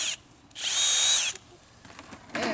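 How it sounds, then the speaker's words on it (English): A screw gun fitted with a small drill bit bores a hole through a plastic bucket for a chicken feeder, a high whining drill burst of under a second, preceded and followed by brief lighter buzzes, close by. "get this little drill bit on here on my screw gun."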